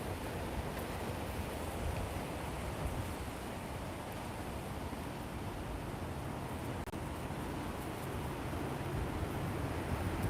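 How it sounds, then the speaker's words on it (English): Wind blowing outdoors, a steady, loud broadband rushing roar that fills the whole stretch without pause or gusting breaks, with no voices. "Can you hear that wind?"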